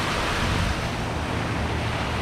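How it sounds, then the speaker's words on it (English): A big old water wheel at Disney's Port Orleans Riverside resort churns the water below, a steady close rushing and splashing wash with no talking. "you're going to pass this big old water wheel that churns the water down below."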